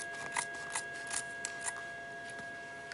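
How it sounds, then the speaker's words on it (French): Scissors snip through recycled denim from old jeans, a series of close, crisp cuts at an irregular rhythm over a faint steady hum, with no talking. "Je coupe comme ceci."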